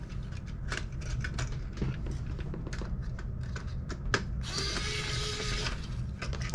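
Small screws being worked loose from the cooling fan inside a Nintendo Wii U console during disassembly, giving scattered close clicks and ticks, then a brief burst of brighter scraping and rattling near the end, with no talking.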